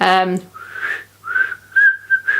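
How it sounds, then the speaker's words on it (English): A person whistles a few short, wavering notes alone, fairly thin and unsteady, with brief gaps between the phrases. "I've never been a particularly good whistler"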